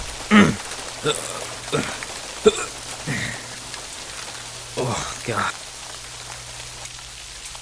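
Soft, steady rain patters at night in a video game while someone speaks in short bursts and makes occasional groaning sounds over it.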